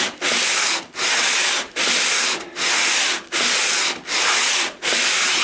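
Sandpaper rubbing back and forth across a wooden Rickenbacker 325 guitar body, seven steady hissing strokes in an even rhythm with brief pauses between, close and loud with no talking.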